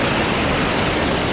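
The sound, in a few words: river water flowing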